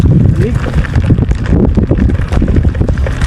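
Outdoor wind buffeting a microphone at a school performance, a loud rough rumble that gusts and surges continuously, with faint background voices mixed in.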